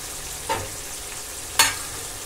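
Mixed vegetables with tomato and a little cumin powder fry gently in a home pan, a soft steady sizzle broken by two brief spatula scrapes, close and without talking.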